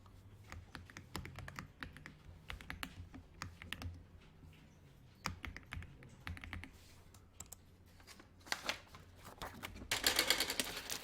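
Fingers type on a computer keyboard in Excel with quick irregular clicking, fairly quiet and close, ending in a denser burst of keystrokes.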